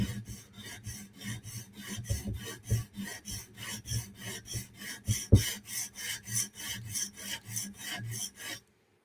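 A knife blade rasps rhythmically along a 150 grit stone on a TSProf Kadet guided sharpener, each even stroke close and distinct, about two or three per second, ending abruptly.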